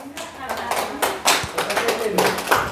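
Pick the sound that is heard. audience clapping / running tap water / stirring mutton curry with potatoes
audience clapping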